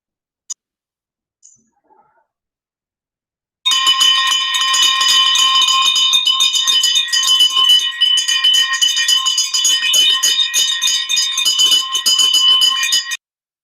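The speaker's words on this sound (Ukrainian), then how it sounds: "Дзвони, наш перший дзвонику" After a few faint clicks, a loud electric school bell rings continuously for about ten seconds at a lyceum's first-bell ceremony, then stops abruptly.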